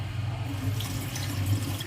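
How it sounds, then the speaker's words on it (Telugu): A vegetable is washed by hand in a bowl of water with turmeric and salt, giving a continuous close splashing and sloshing with small drips, steady throughout and with no voices. "పసుపు ఉప్పు వేసుకుంటే ఇలా వాటర్లో వేసి క్లీన్ చేసుకుంటాం"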